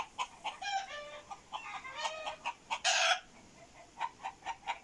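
Chickens and a rooster in a village yard raising an alarm after a hawk flies over, a burst of loud, agitated clucking and squawking calls in quick repeated bursts, with one sharp louder cry near the middle.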